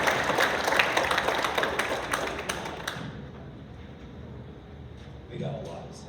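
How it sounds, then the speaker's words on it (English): At a high school spring band concert, the audience gives a round of applause for the student musicians. The clapping is steady for a few seconds, then fades out into a quiet room. "So let's give them a round of applause."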